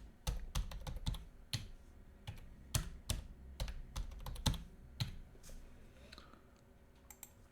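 A computer keyboard clicks as a login and password are typed, a run of sharp, close keystrokes in uneven bursts with short pauses, quiet overall.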